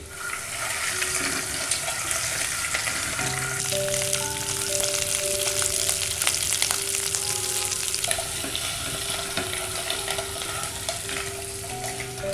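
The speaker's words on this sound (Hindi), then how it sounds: "ये अंडे और आलू ये हम डाल देंगे इसमें। फ्लेम को मीडियम रख के चलाते हुए हम इन्हें फ्राई करेंगे।" Boiled eggs and potatoes frying in hot oil over a medium flame for egg biryani, a dense, loud, continuous sizzle with bursts of spattering as they are stirred, steady throughout.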